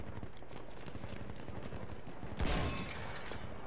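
Distant gunfire in the World War I shooter Battlefield 1, a faint scatter of shots under a noisy battlefield ambience, with one louder burst near the middle.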